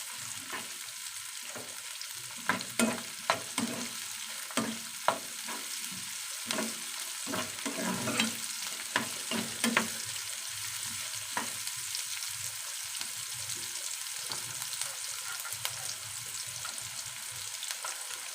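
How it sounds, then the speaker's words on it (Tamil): Finely chopped green chili sautéing in a hot oil pan after tempering, with steady crackling sizzle and intermittent louder pops and stirring scrapes, close up and continuous with no talk. "1 பச்சை மிளகாய் அது பொடியாக நறுக்கி அதில் போட்டு நல்லா வணக்கிக்கோங்க"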